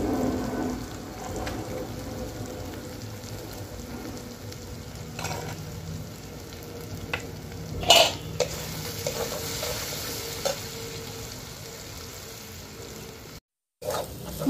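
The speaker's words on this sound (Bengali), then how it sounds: "মশলাটা আমি ভালো করে কষিয়ে নিয়েছি।" Spice masala of turmeric, chilli powder and salt is stir-fried in a pan for a sea crab curry, giving a faint, soft sizzle broken by a few sharp scrapes and clicks from the spatula.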